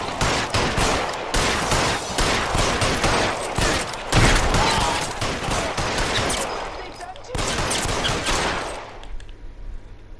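Sustained rapid gunfire in the video game L.A. Noire, dense automatic bursts crackling almost without pause, loud and close, with a short break before a final volley that trails off.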